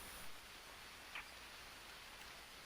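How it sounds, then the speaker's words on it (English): Rain in the survival video game Green Hell falls as a steady, soft wash of drops, a faint, even hiss with no voices. "Barely get started and the rain is here."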